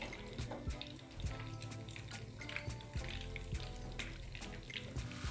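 Shami kebabs fry in a frying pan with a steady, faint sizzle and occasional crackles and pops, heard alone without talk.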